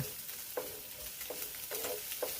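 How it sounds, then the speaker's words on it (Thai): Garlic, sliced pork belly and egg stir-fried in a pan for pad see ew: a faint, soft sizzle with a few regular scraping strokes of a spatula, quiet and close, no talk. "เราก็คนคลุกเคล้ากันเลยค่ะ เป็นการผัดนะคะ กระเทียมหมูสามชั้นสไลด์แล้วก็ไข่ค่ะ"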